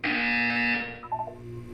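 A loud, harsh electronic buzzer sounds from the Portal 2 video game, holding as a single steady blare for under a second before cutting off, followed by faint tonal blips.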